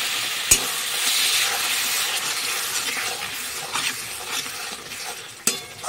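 Spice masala with pasted tomato, turmeric, salt and a splash of water sautés in a pan, giving a continuous close hiss and sizzle broken by a few sharp taps of a spoon against the pan.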